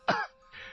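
A young man coughs once, a harsh, throaty burst like clearing the throat, followed by a quieter rasping breath; close and alone with no talk.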